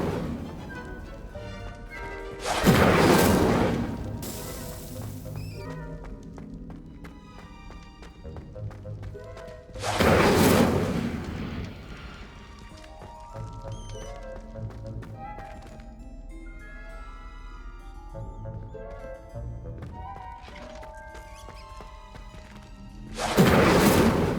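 Incendio fire spells light braziers in Hogwarts Legacy, three loud whooshing bursts of flame spaced several seconds apart, with game music and a voice speaking between them.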